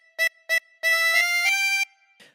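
Harmonica playing a phrase of Hey Diddle Diddle: two short reedy notes, then a longer held passage shifting between a few pitches, close and clear with no talking.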